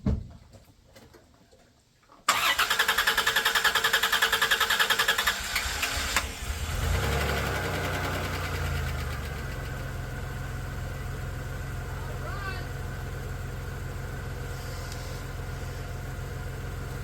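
A 1991 Dodge Grand Caravan engine, just fitted with a replacement transmission, starts with a loud burst and settles into a steady, even idle that runs on close by without talk.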